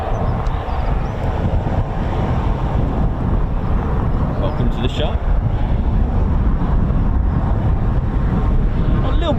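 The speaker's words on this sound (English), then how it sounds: "Bit of a punchy wind today" Strong, gusty wind buffets the microphone at an RAF training airfield, a loud, steady roar that fills the whole stretch, with faint aircraft engine noise blended into the rush.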